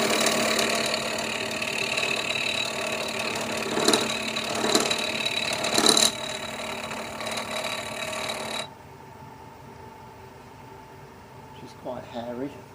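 Small lathe taking a 0.5 mm cut off the diameter of a small rod, turning it down to 3.6 mm for a 4BA thread in a model steam locomotive workshop. Steady mechanical whirring with harmonic hum runs for about eight seconds, then drops to quiet background with faint talk.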